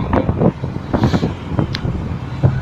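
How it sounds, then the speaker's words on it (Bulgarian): Wind blowing at Pensacola Beach, Florida, on a warm cloudy day, gusty buffeting rumble and flapping against the microphone, loud and close, with no talking. "Има вятър, но е топло"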